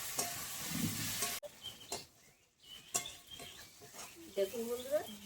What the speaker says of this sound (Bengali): সব কিছু একসঙ্গে মিশিয়ে আর একটু ভালো করে ভেজে নেবো